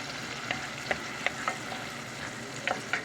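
Chopped garlic and onion frying in a pan, a soft steady sizzle with scattered light spatula taps and clicks at irregular intervals, fairly quiet and without voices.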